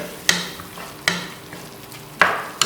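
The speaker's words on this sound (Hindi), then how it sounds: "उसके बाद हम ये 3 अदद सब्ज़ मिर्चें डाल रहे हैं।" Minced keema fries in a pan as green chillies go in, a steady loud sizzle broken by three sharp stirring scrapes.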